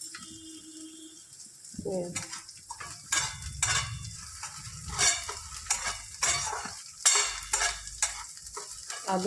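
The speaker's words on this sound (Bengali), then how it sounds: "এরপরে এটা লঙ্কাটা ভালো করে ভাজ, তারপর আলু দিবি।" Green chili frying in a home kitchen pan for potato chops, with sizzling that starts after a quiet moment and repeated stirring scrapes of a utensil against the pan, close and fairly loud.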